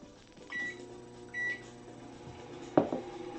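A microwave oven heating a frozen meal gives two short keypad beeps over a low, steady hum, then a sharp clunk and rattle.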